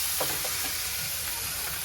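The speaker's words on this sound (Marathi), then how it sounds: "अद्रक लसणाची पेस्ट आपली जरासा भाजून घ्यायची व्यवस्थित।" Ginger garlic paste roasts in a hot pan for a spinach chicken dish, giving a continuous loud, dense sizzle and hiss throughout with no voices.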